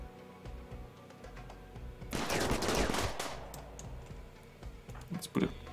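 A turret in Rimworld opens up in a short rattling burst of rapid automatic gunfire lasting about a second, loud against quieter game background and scattered clicks.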